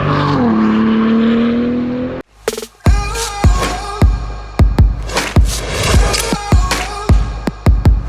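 Cadillac ATS-V twin-turbo V6 exhaust: a steady idle drone, then a brief cutout, followed by a string of sharp, loud throttle blips and revs rising and falling close by, with no talking.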